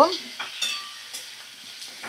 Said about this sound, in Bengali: এবার আমি সুন্দর করে ভাজা করে নিচ্ছি টমেটো।